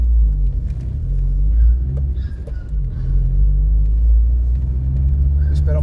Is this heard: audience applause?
no